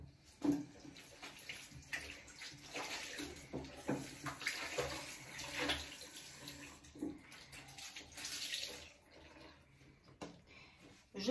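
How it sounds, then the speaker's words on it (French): Running tap water splashes as a face is rinsed during a makeup-removal skincare routine: a close, continuous wash of water with uneven surges and a brief lull near the end. "Je vais rincer encore une deuxième fois."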